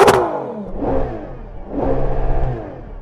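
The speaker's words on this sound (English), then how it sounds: "So I'm going to rev up this Lamborghini. Have a listen to this." A loud pop opens the clip, then a Lamborghini Urus SUV engine revs twice in quick surges, with a throaty standard exhaust rising and falling close by.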